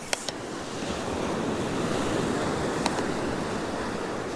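Ocean surf washes steadily onto the shore at 1770, Queensland, Australia, as a broad continuous rush with wind buffeting the microphone and a couple of faint clicks.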